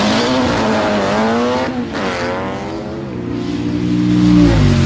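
A 1969 Volkswagen drag racing at Drag Week, its engine loud and close as it revs up and climbs through gears, with a brief dip and then a surge of power near the end.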